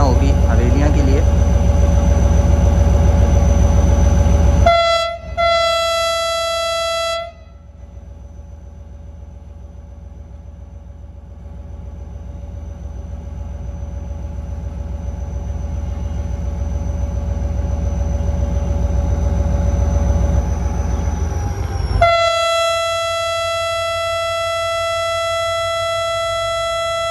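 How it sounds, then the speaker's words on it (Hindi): Train horn sounding loud and sustained at Ranpethani railway station in Sindh's Thatta district, a long steady tone broken by a short gap, then a second blast resuming, with engine rumble underneath. "तो ट्रेन फिर रवाना होगी हवेलियाँ के लिए"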